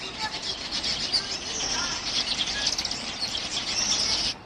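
A Sumatran laughing thrush in a zoo enclosure gives rapid, high chattering calls, fairly close and steady over several seconds, with a wing flutter and faint background bustle.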